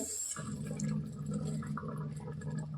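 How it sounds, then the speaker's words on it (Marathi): Hot water is poured into a sago and potato dough mixture, making a faint, steady trickling splash that lasts throughout. "मी अजून थोडंसं यात पाणी घालते"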